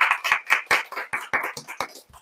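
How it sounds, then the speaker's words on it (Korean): A congregation in a church service claps in a brisk, fairly even rhythm, about a dozen sharp hand claps close by, slowing and fading toward the end. "여러분 우리 하나님께 영광과 찬송의 박수를 올려드립시다"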